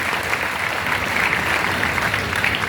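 Steady applause from a debate audience fills the whole stretch, dense and even, with no voices rising above it.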